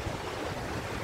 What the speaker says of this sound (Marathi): हे बघा वरून पाणी असं पडते, तुम्ही बघू शकता पाईपामधून